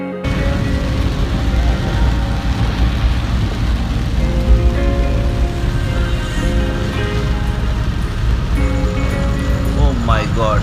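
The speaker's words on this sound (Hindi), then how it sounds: "धीरे धीरे बहुत ज़्यादा बारिश हो रहा है" Heavy rain pours down on a car during a road trip near Bhangarh Fort, a dense, steady hiss and drumming close around, with a voice talking over it and a few brief higher sounds near the end.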